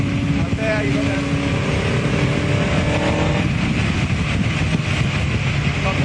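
Loud, sustained onboard engine note of a Cooper F1 racing car under power at Donington Park, droning steadily close up while someone talks over the noise.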